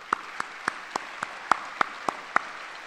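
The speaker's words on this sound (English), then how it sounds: "Give yourselves a round of applause." Clapping at a school Veterans' Day program: about nine sharp, evenly spaced claps at a steady slow rhythm, fairly close and moderately loud, with no talk.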